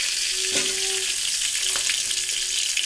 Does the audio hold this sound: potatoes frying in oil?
yes